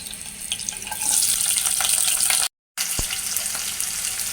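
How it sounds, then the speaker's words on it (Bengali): Onions and garlic frying in oil for a fish curry, a loud, steady hiss of sizzling close by, briefly cut off before continuing. "পেঁয়াজ আর হচ্ছে রসুনগুলো দিয়ে দিলাম এগুলোকে একটু ভেজে নিব"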